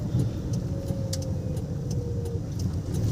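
Steady low hum of a car engine at light throttle in second gear, heard from inside while driving gently, a constant medium rumble with faint tyre and road noise.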